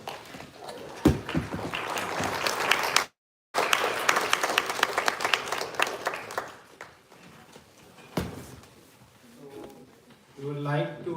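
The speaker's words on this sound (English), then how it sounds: "With a big round of applause." An audience at a talk applauds together, a dense patter of many clapping hands that stops abruptly, starts again, then gradually thins out before a voice speaks.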